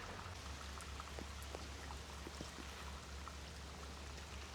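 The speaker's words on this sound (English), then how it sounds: "hopefully that's the last of the rain" Steady rain falling while sheltering during a bikepacking wildcamp trip in the Lake District, a dense continuous patter with scattered distinct drops and a low constant rumble, no voices.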